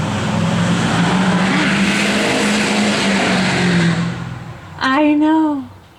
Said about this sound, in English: Now there's a truck